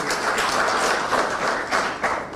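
Crowd applause at a political gathering, a dense, steady wash of clapping from many hands that swells slightly in short waves throughout.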